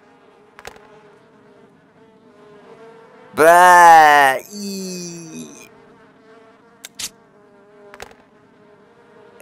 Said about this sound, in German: Wenn ich den Kühlschrank einschalte, kann die kalte Luft vielleicht die Bienen auseinanderjagen.